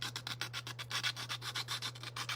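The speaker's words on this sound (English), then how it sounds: "we're going to use a flat file and just carefully work our way around" A flat file rasps back and forth along the rough edges of a small window opening in a detailing kit, a steady rhythm of close, quiet strokes with no talk.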